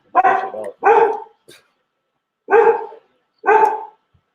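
Dog barking in four loud, close bursts, two quick barks, a pause, then two more, with a faint yip between, heard during a live stream of play.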